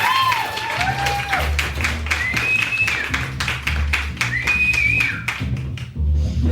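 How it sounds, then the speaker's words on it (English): Audience clapping and applause greet Penny Ashton, the Queen of Tarts from New Zealand, as she comes onto a stage, a dense steady patter of many hands lasting throughout with a few louder thumps and faint voices mixed in. "Can we have a fantastic round of applause?"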